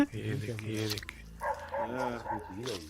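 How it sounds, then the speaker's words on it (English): Dogs bark over a stretch of close talk, the barks mixed in with voices and hard to separate, at moderate loudness. "why are the dogs barking?"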